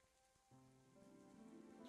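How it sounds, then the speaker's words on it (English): Rain falls in the farming video game Big Farm Story: a soft, steady patter that builds slightly under faint tonal background music, with no talking. "I hate it's raining"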